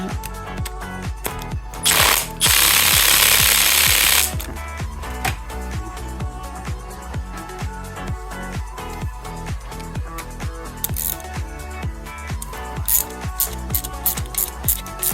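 An 11 mm socket undoes the small screws holding the injectors on a BMW 318i, close metallic ratcheting clicks and taps in irregular bursts, with one loud two-second whir of a power tool near the start.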